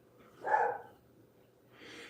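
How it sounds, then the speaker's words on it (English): A single faint beagle bark sounds at a distance, followed by a softer second yelp, with no one talking. "You guys can hear that little beagle barking in the background."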